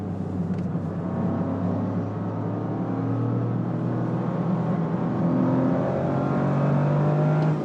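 A Toyota GR Corolla Morizo on Cup 2 tires accelerates hard around a track, its engine note heard from inside rising steadily in pitch through the gear, close and continuous with no talk.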